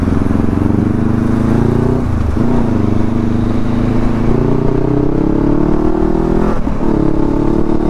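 A motorcycle rides along a road with a loud, close engine drone whose pitch rises and falls through gear changes and throttle shifts, steady and continuous with wind rush.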